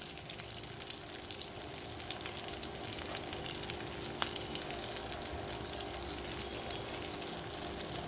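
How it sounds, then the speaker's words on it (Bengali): Cashews fry lightly in a pan with a steady, close sizzle that stays even throughout while they are stirred. "একটু নাড়াচাড়া করে হালকা মতো ভেজে নিচ্ছি"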